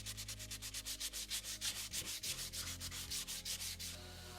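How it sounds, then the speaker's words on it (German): Hand sanding with 80-grit sandpaper scrubs an old rusty step ladder in a steady back-and-forth rhythm of about a dozen quick rasping strokes, close and continuous with no talking. "Die Putzreste lassen sich mit einem Schleifpapier mit Körnung 80 entfernen"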